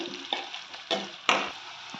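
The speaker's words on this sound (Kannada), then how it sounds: "ಈರುಳ್ಳಿ ಕಟ್ ಮಾಡಿದ್ರೆ ಇದಕ್ಕೆ ಹಾಕಿ ಫ್ರೈ ಮಾಡ್ಕೊಳ್ಳಿ" Sliced onions frying in a pan for a vegetable chapati roll filling, a soft close sizzle broken by a few sharp scraping stirs.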